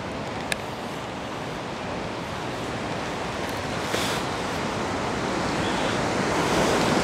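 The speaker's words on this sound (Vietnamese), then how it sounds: "thì với những cái bãi biển rộng và đẹp như này ấy" Ocean waves wash onto a long, wide beach at the Sheraton Grand in Danang, making a steady, loud surf roar with wind buffeting the microphone and a surge building toward the end, with no voices.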